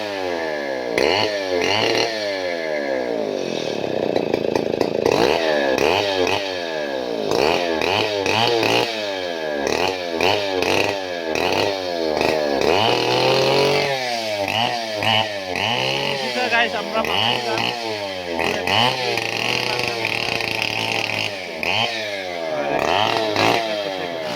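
A gasoline chainsaw cuts through a big tree, its engine rising to a loud high whine under load and dropping back between cuts in a long repeating cycle, with a voice talking at times under the noise.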